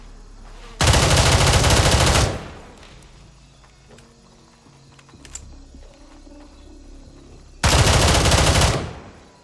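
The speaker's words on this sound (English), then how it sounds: "Shot at the wrong flash of gunfire." Two loud bursts of rapid automatic gunfire in the military shooter game Gray Zone Warfare, each lasting over a second, separated by a quieter stretch of faint distant shots and rustling.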